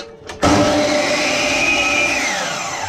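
After a quiet moment, the motor of a DeWalt DW708 miter saw, newly replaced, switches on abruptly and runs at a steady high whine, loud and close, easing slightly toward the end.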